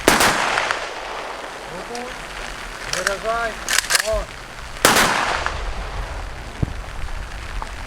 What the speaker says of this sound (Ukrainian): В честь загиблих залп